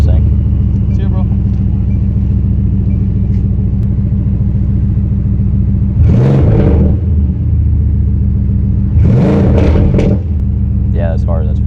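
A straight-piped Mercedes-AMG GT idles with a loud steady rumble, then its engine flares up in two short sharp revs, one after the other.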